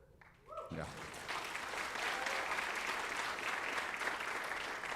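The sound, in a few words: audience applause at a signing day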